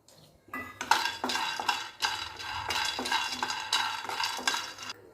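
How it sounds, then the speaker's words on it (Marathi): Peanuts dry-roasting in a hot kadai over a gas flame, a spatula stirring them in a steady rhythm of metallic scrapes and rattling nuts, close and fairly loud with brief pauses between strokes. "सगळ्यात आधी शेंगदाणे भाजून घेऊया"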